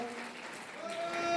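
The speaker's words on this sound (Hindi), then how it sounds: "जोरदार तालियां बजती रहनी चाहिए" Crowd applause at a BJP party workers' convention in Neemuch, India: a brief, steady wash of clapping heard at a distance, fairly faint and without speech.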